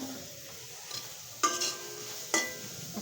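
Chopped onion and green chillies fry in a pan for rui fish kalia, a soft low sizzle broken by two sharp metallic clinks of a utensil against the pan.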